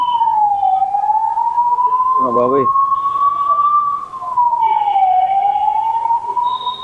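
An emergency siren wails steadily on a road in Hyderabad, rising and falling in slow, loud sweeps for the whole stretch, with a brief voice cutting in partway through.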